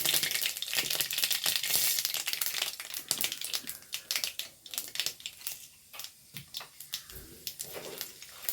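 Urad dal fries in hot coconut oil, loud sizzling and crackling at first, then thinning into scattered sharp pops and rustles.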